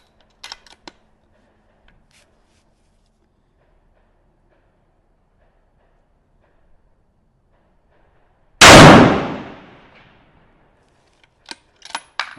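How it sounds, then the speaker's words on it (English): A single loud rifle shot fired at a tall target on a shooting range cracks out sharply and decays quickly, with faint clicks and handling noises before and after and no talk. "So I'm gonna take a shot at the exact same spot."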